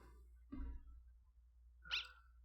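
In the video game Undertale, a dog gives a few short, sparse barks and yips against near silence, with a low background hum underneath.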